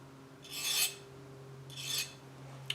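A metal file scraping a burr off an Epiphone Les Paul guitar part, two distinct close rasping strokes separated by a pause, in a quiet room.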